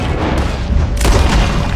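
Loud, close gunshot bursts in Red Dead Redemption 2, heavy booming reports that run together into a sustained volley.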